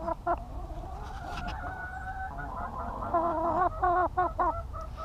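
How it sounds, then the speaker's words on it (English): A bird clucks and calls repeatedly up close, with a run of rising, wavering notes and a few short squawks, with no voices. "That's a good bird."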